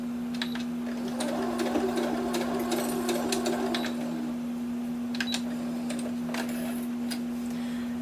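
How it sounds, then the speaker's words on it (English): A Brother home sewing machine stitches in quick rattling bursts over a steady motor hum. The stitching is close and moderately quiet, pausing and restarting, with light clicks between runs and no speech. "This is a Brother sewing machine."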